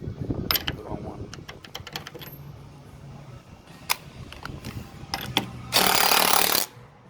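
A socket wrench ratchets on a bolt during front suspension removal on a Volkswagen 4Motion, with bursts of close mechanical clicks and clanks and a short, loud whirring rush near the end.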